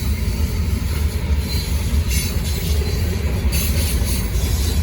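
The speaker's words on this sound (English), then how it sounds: "Got some Kansas City Southern's Canadian Pacific hoppers on this train." A Norfolk Southern freight train carrying Kansas City Southern and Canadian Pacific hopper cars rolls past close by, with a heavy low rumble, steady wheel clatter and faint intermittent squeal.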